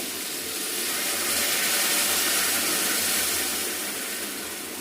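Hot water poured into a pan of lightly fried chicken for a chicken stew gives a steady, loud steamy hiss and sizzle that swells and holds for several seconds with no talking.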